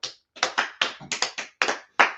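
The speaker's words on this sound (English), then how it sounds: "Let's clap it up again." A group claps again indoors, a rapid and somewhat ragged run of crisp hand claps, near and loud, with short gaps between bursts and no voices.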